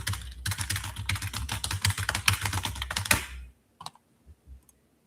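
Rapid, continuous typing on a computer keyboard, close and crisp, with dense keystrokes for about three seconds before it stops, followed by a few scattered isolated clicks.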